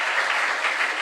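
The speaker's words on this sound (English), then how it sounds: "they all deserve a resounding round of applause" An audience at a regional junior science and maths quiz claps for the contestants in a dense, even burst of applause that is fairly loud and steady for its whole short span.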